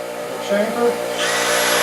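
Power tool spinning at low speed as it chamfers the end of a threaded rod stud, a steady whirring grind up close that shifts in pitch partway through and brightens toward the end.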